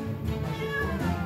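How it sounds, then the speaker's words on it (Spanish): Cat meowing in the tavern game Travellers Rest, one drawn-out close meow over a low steady background. "Un gato se ha metido en tu taberna."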